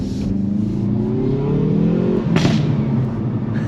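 Hyundai i30N Performance pulling hard out of a junction, its engine note climbing steadily through the revs before a sharp shift crackle, loud and close from inside the car.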